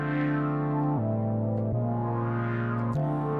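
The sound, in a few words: acid house bass line played in Ableton, notes D2 C2 A1 A#1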